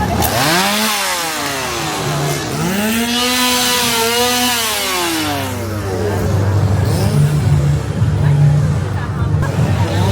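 A chainsaw revs up and down in repeated rising and falling bursts, loud and nearby, with crowd chatter beneath it, at a crowded theme park Halloween event at night.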